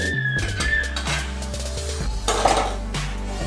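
A metal lid is set on a cooking pot of Bengali pachon, a mixed vegetable dish with tomato leaves, giving a close scraping clatter of metal on metal over a low, steady background hum.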